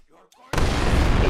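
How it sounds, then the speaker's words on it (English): At an amateur football match, a sudden loud explosive blast cuts through near-quiet background and leaves a sustained, roaring burst of noise. "once again, another explosion."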